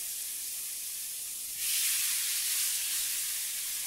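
Steak sears in a dry pan with no oil or butter, a loud continuous sizzle and hiss that swells sharply partway through and then stays strong, with no voices.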